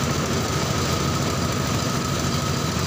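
A car engine runs steadily at about 1776 rpm, a loud, even drone with a constant hum and a fine vibration, up close and unbroken.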